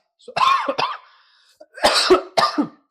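Coughing from a cold, a few harsh coughs in two quick bursts, close and fairly loud with a brief pause between them.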